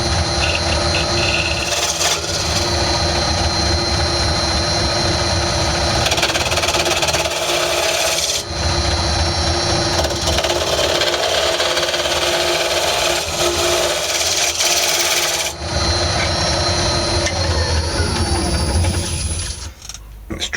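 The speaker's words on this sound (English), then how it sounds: "Just use my bowl gouge now in a scraping mode just to clean up the inside." Wood lathe spinning a cake stand while a bowl gouge scrapes its inside, giving a steady loud whirring scrape with continuous broadband hiss that runs without pause and drops off in the final second.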